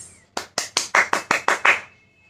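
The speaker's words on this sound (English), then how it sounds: "So let us give them a huge round of applause." Eight sharp, evenly spaced claps ring out close and loud at a pre-primary school Children's Day celebration, as rhythmic applause for the children's performance, then stop abruptly.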